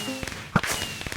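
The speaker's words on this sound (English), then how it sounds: "It's a little hard to hear when there's all those fireworks going off" Minecraft fireworks bursting in a quick string of sharp pops and crackles, with one loud bang near the middle over a faint steady game tone.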